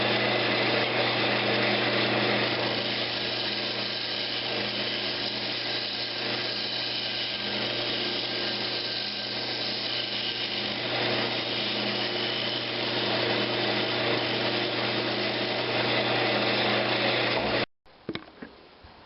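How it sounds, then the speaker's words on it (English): A Brazilian cherry lidded box is sanded as it spins on a wood lathe, giving a steady, loud, even rubbing whir with a constant motor hum that runs almost unbroken before stopping abruptly near the end. "I'm just sanding now."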